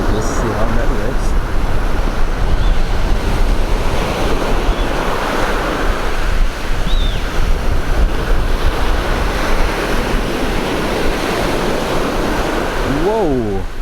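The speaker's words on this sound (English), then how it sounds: "The sea is roaring out like crazy." Ocean surf at a Punta Cana beach roars loud and steady throughout, with heavy wind buffeting the microphone and a brief voice near the end.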